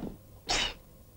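One short, sharp sneeze from a person in a 1966 Soviet comedy film scene, clear and fairly close, rising out of a quiet room background.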